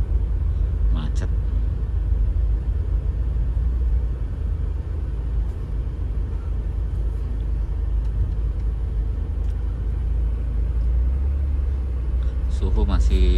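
A car moves through a traffic jam in the Tomang area of Jakarta, its steady engine and road rumble dominating throughout, with a few brief horn-like tones near the start and end.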